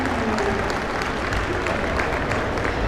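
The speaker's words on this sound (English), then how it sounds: "Let's give these kids another round of applause." An arena crowd applauds steadily for kids showing Jersey heifers in a 4-H dairy show, a dense wash of clapping with no breaks.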